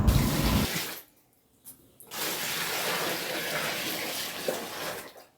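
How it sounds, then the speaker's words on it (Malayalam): Splashing and running water with sloshing as clothes are washed by hand with water drawn from a well, briefly pausing and then resuming steadily, close by. "ലാസ്റ്റ് കിണറ്റിൽ നിന്ന് വെള്ളം കോരിയിട്ടാണ് അലക്കിയത്."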